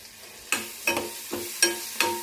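Onions and curry leaves frying in a pan for a drumstick curry, with five sharp stirring scrapes spaced about every half second over a quiet sizzle, moderately faint and without speech.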